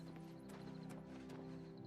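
Horse hooves clopping in Oblivion Remastered, a steady close rhythm over a constant droning game backdrop, with a faint whinny-like tone mixed in.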